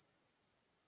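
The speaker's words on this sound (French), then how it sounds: "Vous entendez? Les grillons." Crickets chirp in short, faint, high trills, two or three bursts close together in a quiet room.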